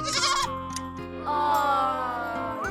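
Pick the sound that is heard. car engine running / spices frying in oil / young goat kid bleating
young goat kid bleating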